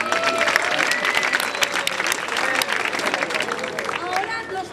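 Crowd applause for a school group at a high school anniversary event, dense and steady clapping with voices mixed in.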